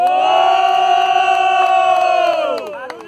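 Crowd at a student freestyle rap battle grand final in Guarulhos, São Paulo, cheering and shouting loudly in a sustained roar that fades as it ends, with scattered whoops.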